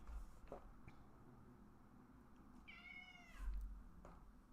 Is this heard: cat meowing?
yes